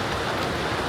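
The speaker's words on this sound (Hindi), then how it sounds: "और ये भाई साहब ऊपर से ना बारिश का मज़ा ही अलग है" Rain falls overhead in a steady, dense hiss of drops, close and fairly loud, continuous throughout with no voices.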